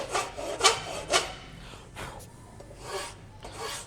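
A horseshoe rasp scrapes across a wooden knife handle in repeated rough strokes, about one stroke every half second, close and fairly quiet, with no talk.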